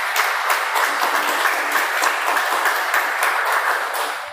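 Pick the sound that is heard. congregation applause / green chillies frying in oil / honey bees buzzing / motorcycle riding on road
congregation applause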